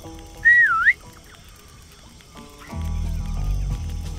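A character in the tactical video game Jagged Alliance: Rage! gives a short, clear rising-and-falling whistle, and a low droning game sound swells in afterward.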